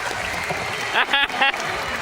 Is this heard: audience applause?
yes